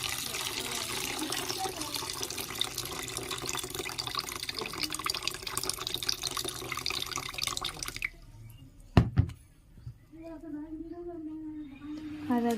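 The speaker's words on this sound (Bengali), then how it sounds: "জলটা আমি ছেঁকে নিলাম।" Water draining from washed Gobindobhog rice, a steady broadband rush of pouring liquid that stops abruptly, followed by a few clunks and quieter sounds with faint voices near the end.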